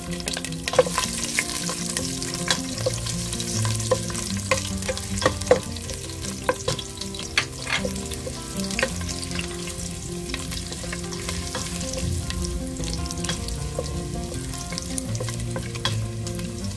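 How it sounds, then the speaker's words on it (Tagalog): Ginger sautéing in a pan, a steady sizzle and fry with frequent sharp clicks and scrapes of stirring, close and fairly loud throughout, no voices. "So ngayon susutay muna natin itong ating ginger."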